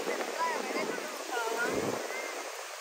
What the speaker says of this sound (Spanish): Viene fuerte el mar